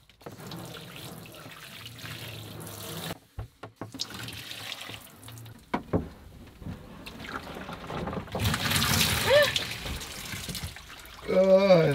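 Water running and gurgling in a blocked camper van sink, sloshing and trickling in uneven bursts that swell louder toward the end, with people talking nearby at points.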